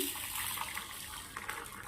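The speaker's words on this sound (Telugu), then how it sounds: "అవి నీళ్ళు పోసి" Water pouring steadily into a bowl to soak spices for a curd curry, a continuous splashing gush at close range, brief and without speech.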